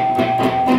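A single lightly muted pluck on a guitar's fifth string, the finger resting on the string without pressing it down, giving a short, dull, damped tone heard up close.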